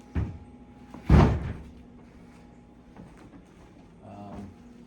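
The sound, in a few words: cabinet doors opening and closing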